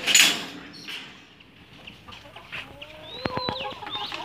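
Chickens in a backyard poultry coop on a farm, close clucking and several sharp squawks rising near the end, over a quiet background with no talk.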